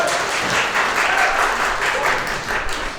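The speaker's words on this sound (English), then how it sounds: "Let's put our hands together for Scott Sullivan." Warm applause from wedding guests welcoming a speaker up for a toast, a dense, steady clapping crowd filling the room and easing slightly toward the end.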